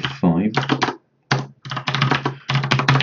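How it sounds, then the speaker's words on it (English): Keys tapped on a computer keyboard while DOS code is typed by hand: close, quick bursts of clicks that stop briefly and resume, with a voice running over them. "So much typing by hand, it's just the same code."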